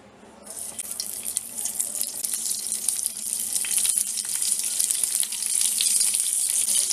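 Stuffed okra (bharli bhendi) hits hot oil in a kadai, setting off a steady, building sizzle that hisses loudly and continuously.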